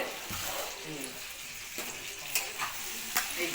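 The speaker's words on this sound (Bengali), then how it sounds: "পুঁই শাক এই তো রান্না হচ্ছে" Malabar spinach (pui shak) cooking in a pan with a steady, soft sizzle and occasional stirring scrapes, close by and fairly quiet, with no talk over it.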